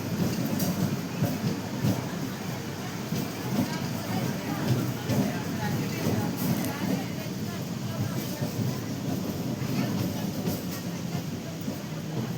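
A passenger train on the Guntur to Vijayawada line pulls into Namburu station, giving a steady, loud rolling rumble with faint rail clatter that lasts throughout, while voices murmur in the background.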